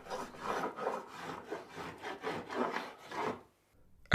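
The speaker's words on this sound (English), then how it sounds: "the first outline of a natural ash Hurley begins to emerge" Steady rhythmic rasping of a tool shaping an ash wood hurley, about eight strokes back and forth, close and fairly loud, with no talking.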